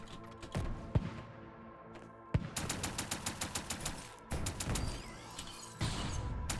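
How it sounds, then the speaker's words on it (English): Gun firing in the game Curious Chaos: punchy shots, first single ones, then a quick rhythmic run of repeated blasts, with more bursts later amid busy game effects. "Still getting a handle on how this gun fires"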